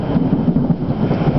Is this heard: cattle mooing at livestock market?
no